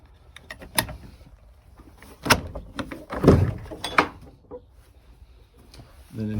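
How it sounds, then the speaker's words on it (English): A wooden door on a chicken stall in a meat chicken breeding setup is pushed shut, giving several close knocks and thuds over about six seconds, with a scrape and bump near the middle. "So when I close this door off,"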